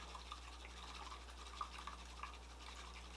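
A bamboo whisk is swished quickly through matcha tea in a bowl in a zigzag motion, making a soft, continuous frothy brushing sound with faint liquid ticks, quiet and close with no talking.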